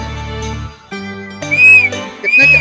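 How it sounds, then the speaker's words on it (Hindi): A toy whistle is blown at the Sonepur cattle fair, with two bright sustained toots over a loud steady drone and crowd bustle nearby. "सीटी बजाओ तो।"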